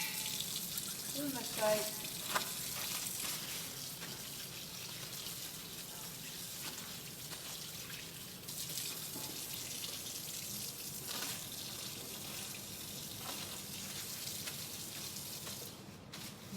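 Hands are rinsed under a running kitchen tap, a steady, fairly quiet hiss of flowing water with some splashing, lasting throughout, while a person speaks briefly.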